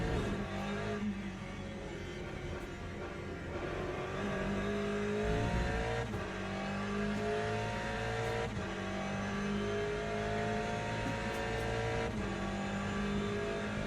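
Race car engines in a WEC racing video game, with GTE cars in the field, droning and revving continuously as gears shift up and down, steady and fairly loud throughout.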